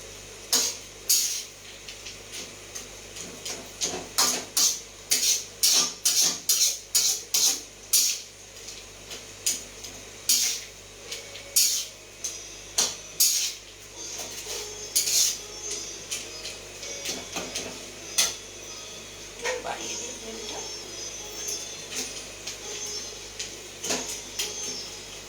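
Nakul dana being stirred and fried in a pan for date chutney, with repeated sharp scraping and clinking of a spatula against the metal, close and steady over a low background hum, no talking.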